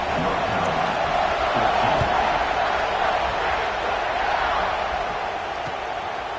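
Stadium crowd at an Ohio State football game roaring and cheering steadily as the kickoff approaches, a broad sustained wall of noise from a large audience.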